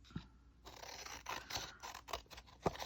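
Scissors snip and crunch through paper while trimming a craft piece, a run of short close cuts with a few sharper snips near the end, no talking.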